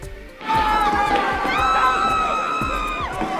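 A voice screams, long and high-pitched, in the 2012 film Dredd, held for a couple of seconds over a loud crowd and scene noise, with thumping hits underneath.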